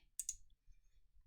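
Two sharp, close mouse clicks in quick succession on an Excel dialog's Aceptar button, crisp and quiet against near silence, with another click at the very end.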